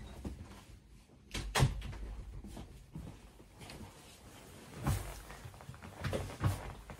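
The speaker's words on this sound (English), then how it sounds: "I'm just going to close the door" Someone pulls a room door shut during an evening lecture, giving a few soft knocks and a brief latch-like thud amid a quiet room, with muted shuffling between the impacts.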